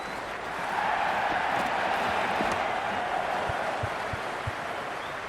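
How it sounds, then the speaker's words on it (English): Stadium crowd in the cricket video game Cricket 2026 during a Karachi Kings vs Lahore Qalandars PSL match, a broad sustained roar of cheering and clapping that swells and holds, with a few faint thumps underneath. "It's evident and ever so audible that the crowd is at near bursting point at today's play."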